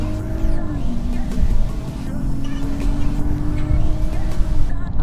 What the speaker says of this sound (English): You can hear the turbo spool, which is quite amazing